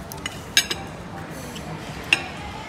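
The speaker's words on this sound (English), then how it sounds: "I guess I better move the plate." A plate clinks and scrapes as it is shifted on a restaurant table, with a couple of sharp ceramic knocks against the quiet hum of a dining room.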